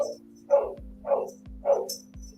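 A dog barks indoors, three sharp close barks spaced about half a second apart over a steady low electrical hum.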